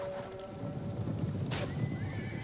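Horse archers' mounts in the strategy game Total War: Rome 2, a close horse whinny and neigh over clip-clopping hooves and battle noise in a short burst.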